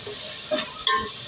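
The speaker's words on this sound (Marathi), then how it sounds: "आता हे मिक्स करूया व्यवस्थित।" Ginger-garlic paste fries in a pan for veg biryani while a spoon stirs it, giving a soft sizzle under two quick scraping strokes close by.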